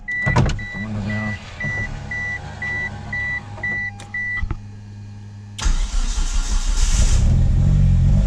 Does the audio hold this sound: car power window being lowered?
yes